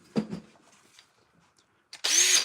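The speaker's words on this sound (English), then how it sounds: "then you stick it in your drill" An electric drill spins up with a bolt, nut and large washer chucked in it, giving a loud, steady high whir that starts abruptly after a few faint handling knocks and soft rustles.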